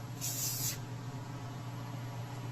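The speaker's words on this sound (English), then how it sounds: "So I'm going to shake the can, close my eyes, and this is how I spray my face." One quick hissing burst of face primer misted from an aerosol can, a short bright spray lasting about half a second over a steady low room hum.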